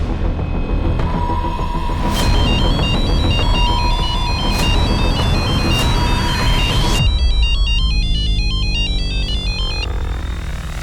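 A telephone rings in a TV crime drama scene, a loud electronic ringtone with repeating chirping tones and clicks that runs on steadily, then switches to a different warbling ring pattern partway through, with no talk over it.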